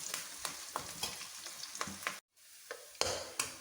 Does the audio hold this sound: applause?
no